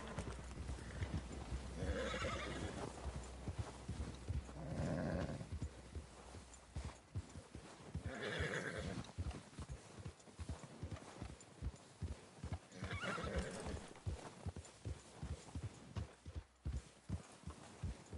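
Horse hooves clip-clop steadily through a Red Dead Redemption game scene near a lake, with whinnies and neighs rising over the hoofbeats and a few brief spoken lines.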